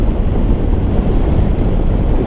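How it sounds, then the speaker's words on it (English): Constant loud wind roar buffets the microphone while riding a Yamaha Tenere 700 motorcycle on an open freeway, a dense, steady rumble with no break. "It's bloody windy here though."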